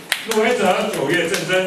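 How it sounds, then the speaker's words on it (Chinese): A few scattered hand claps at a mock awards announcement on a talk show, sparse and fairly close, mostly buried under someone speaking continuously. "对，大家拍手念，是吧？"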